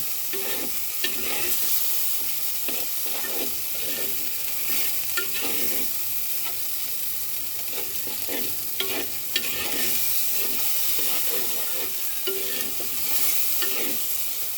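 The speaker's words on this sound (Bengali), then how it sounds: "দিয়ে দেব আদা বাটা দিয়ে দেব কাঁচামরিচ সব কিছু একসাথে সুন্দর করে মশলাটাকে কষাবো" Spice paste with ginger paste and green chillies being sautéed in a clay wok, for a vegetarian soybean dish: a steady sizzle with repeated scraping stirs in a loose rhythm, close and fairly loud, with no talking.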